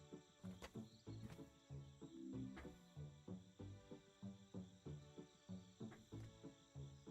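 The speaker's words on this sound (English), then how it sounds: "So we have birds and crickets playing at the same time." Looping ambient nature track in a Unity VR game, with chirping crickets and birdsong repeating in a steady rhythmic pattern of short calls, quiet and even throughout.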